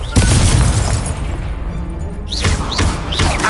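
A Confringo spell blasts in a Harry Potter video game duel, a loud booming explosion with a rumbling low tail, followed by whooshing spell effects.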